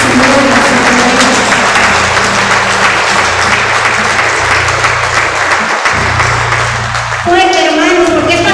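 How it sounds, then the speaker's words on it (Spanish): A church congregation claps loudly and steadily throughout, mixed with music and voices, in praise of the Holy Spirit during a worship service. "dale esas palmas al Espíritu Santo, ese aplauso al Señor"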